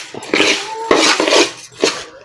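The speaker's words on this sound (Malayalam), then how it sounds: "നല്ല പോലെ പൊരിയുന്നത് വരെ വറുത്തെടുക്കണം കേട്ടോ." Rice dry-roasting in a pan on the stove for rice upma, stirred with a utensil that scrapes and clinks against the metal in several loud, close strokes.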